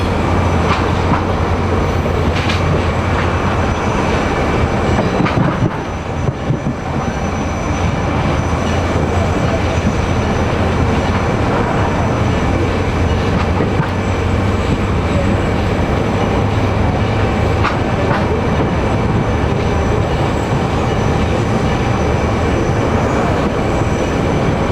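A Panama Canal Railway train rolls along its rails with a loud, continuous rumble and steady rattle of the cars, running unbroken for the whole stretch without voices.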